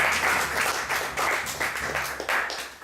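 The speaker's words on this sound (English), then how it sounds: "please, give a big round of applause to Bhakti RASAMRITA SWAMI." Audience applause after a talk by a visiting swami at an evening gathering, a steady wash of many hands clapping that swells in repeated waves for about three seconds, with no speech over it.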